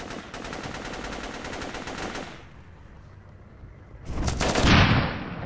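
Rapid gunfire rattles in an isometric tactical shooter video game, a dense burst of shots for about two seconds, a lull, then a heavier blast as a rocket is fired and explodes.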